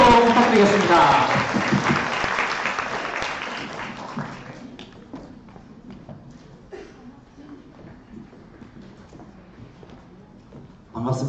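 A live audience at an education forum talk concert claps warmly to welcome a teacher to the stage. The dense applause lasts about four seconds, then thins to scattered claps and quiet hall noise.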